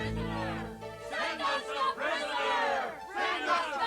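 A crowd in a staged Passion drama shouts and roars in repeated swelling waves of many voices, loud and close.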